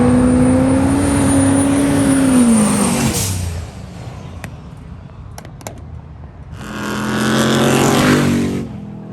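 A GMC Sierra 1500 pickup engine revs hard and roars off at a drag strip launch, tires smoking, its pitch climbing then fading, followed by a second loud surge of engine noise.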